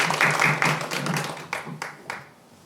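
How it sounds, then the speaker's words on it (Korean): Scattered clapping from a small gathering at a local party chapter event, brief bursts fading into a few isolated claps, fairly close with no talk. "박수 한번 주세요"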